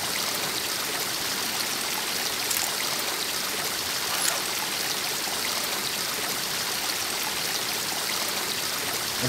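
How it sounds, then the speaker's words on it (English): Fountain water runs steadily in Mystery Case Files: The Countess, a continuous broadband rushing and splashing that stays loud and even throughout, with no talking over it. "This water noise is annoying."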